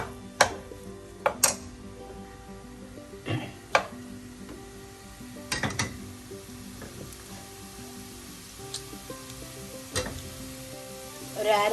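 Cauliflower stir fry cooking uncovered in an open pan, with a steady low sizzle broken by scattered clicks and clinks of a utensil against the pan, close and fairly quiet.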